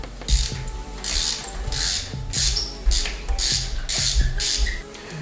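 A deep socket ratchet wrench working a spark plug out of an A90 Supra engine, rhythmic close clicking ratchet strokes repeated about eight times, each a burst of pawl clicks.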